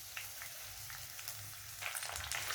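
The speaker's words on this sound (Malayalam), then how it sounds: "ഇനി ഇതിൻ്റെ അകത്തോടെ നമ്മൾ എടുത്ത് വെച്ചിരിക്കുന്ന മുരിങ്ങയില ഇട്ട് കൊടുക്കാം." Drumstick leaves frying in a pan for a Kerala-style curry, a steady low crackling sizzle with scattered soft pops, growing a little livelier toward the end.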